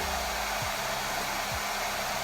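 A hair dryer blows steadily while drying a wig, a loud constant whooshing roar close by, with faint shifts in pitch as the airflow moves, and no talking.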